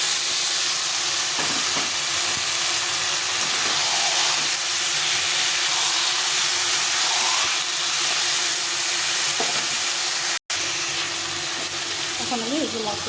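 Marinated goat meat hits hot oil with frying onions, setting off a loud, continuous sizzle and hiss that holds steady, with a brief break and occasional stirring sounds.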